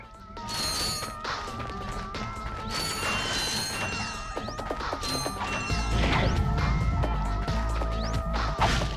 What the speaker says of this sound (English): Let's just use a wrench.